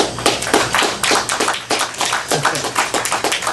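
A crowd claps in repeated short bursts of applause, fairly close and lively, with the uneven rhythm of many hands.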